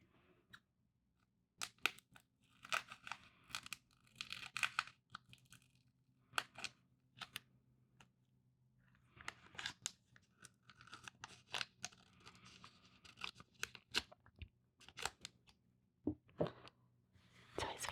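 Pokemon card booster packs torn open by hand, with repeated crisp ripping and crinkling of foil wrappers in short bursts, close and quiet with pauses between rips.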